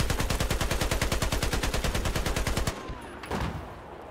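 Rapid automatic gunfire in the video game Battlefield 4, a steady close burst of evenly spaced shots lasting over two seconds, then cutting off to quieter game ambience with a faint distant shot.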